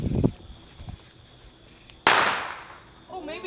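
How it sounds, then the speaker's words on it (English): A small flash firecracker goes off with one sharp, loud bang and then a crackling hiss that fades over about a second, after some quiet handling noises. A faint voice is heard just afterwards. "I'm doing my little bomb. I think it's a flash one."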